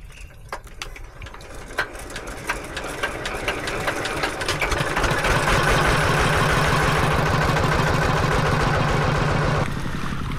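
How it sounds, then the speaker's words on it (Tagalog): Two engines run together at a steady rapid chug, the beat growing louder and denser over about ten seconds before easing slightly near the end, with no talking. "Ayan, dalawang makina na yan."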